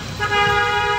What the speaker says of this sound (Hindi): और हॉर्न बजाओ